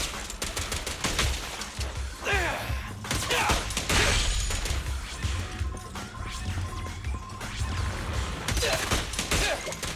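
Gunfire in a Zenless Zone Zero battle: dense, rapid bursts of shots mixed with crashes and impacts, loud and continuous across the whole stretch with no talk.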